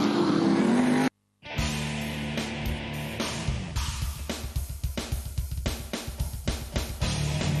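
360 cubic inch sprint cars racing on a 360 metre dirt track at Bordertown in a South Australian championship final, engines roaring loud and continuous, with rapid rhythmic surges as cars blast past close by after a brief dropout.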